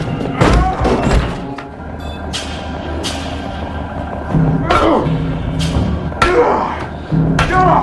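A brawl inside a toilet stall brings a series of heavy thuds, slams and smacking blows at irregular intervals, with gasps and voices between impacts.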